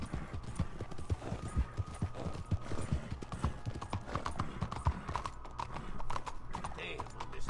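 Horse hooves clip-clop in a steady rhythmic trot in Red Dead Redemption 2, close and continuous across the whole stretch, with light ambient game sound beneath.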